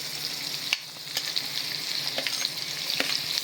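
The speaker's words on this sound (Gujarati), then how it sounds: "વઘારની અંદર પણ હિંગ એડ કરીશું. પહેલાં ડુંગળી એડ કરીશું." Onion sizzling in hot oil for a tempering with mustard seeds, cumin and asafoetida: a steady bright crackling hiss with a few sharper pops and spatters, close and continuous, with no voices.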